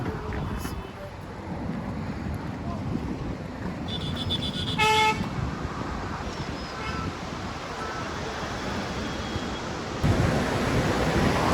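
The Sindh river at Sonamarg rushes steadily as a broad, continuous roar of flowing water, with wind buffeting the microphone and a brief high tone near the middle.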